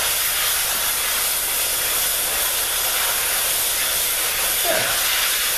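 An aerosol spray can sprays paint onto car trim in a steady, continuous hiss that fills the whole stretch without a break. There is no talking.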